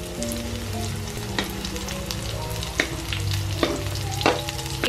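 Kikiam fish balls frying in a pan, a loud, close, steady sizzle with repeated stirring scrapes and taps of a utensil against the pan.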